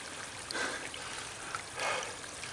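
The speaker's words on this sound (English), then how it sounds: "Right here, what you're looking at is one of the many sources of water that I use when I'm out here in the woods." A small natural water source trickles steadily in the woods, faint and continuous, swelling slightly twice as the flow gurgles a little louder.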